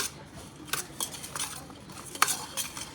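A spoon stirs cumin and mustard powder into a mango pickle in a bowl, giving a few light clinks and scrapes of metal against the dish, quiet and close with no talk.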